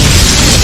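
Blood explosion technique from a fantasy battle, a dense loud burst of broadband noise with deep low rumble sustained through the moment, with no talk over it.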